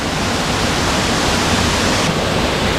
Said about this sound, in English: There they are on top of the waterfall.